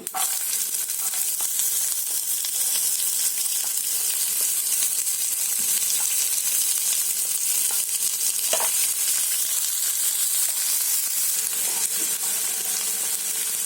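Chopped onion frying in hot oil for chicken changezi, a steady, loud sizzle that holds evenly throughout with occasional faint clinks of stirring.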